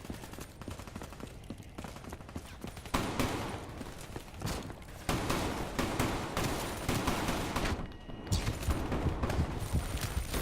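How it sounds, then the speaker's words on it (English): Rapid bursts of automatic shotgun fire in Call of Duty: Black Ops III, loud and repeated across the whole stretch, with heavy blasts stacking into near-continuous volleys and brief gaps between strings of shots. "this is that automatic shotgun again. Finally, I get to use it."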